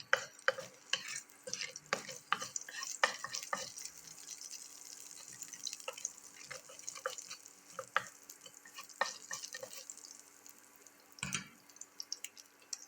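Mustard seeds splutter and pop in hot oil while being tempered for a South Indian keerai kadaisal of chakravarthi greens, with scattered sharp crackles and stirring scrapes over a quiet sizzle and no talking.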